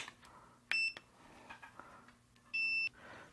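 A multimeter in continuity mode checking quadcopter wiring for shorts gives two short, clean electronic beeps, one early and one near the end, over a quiet background with faint handling clicks.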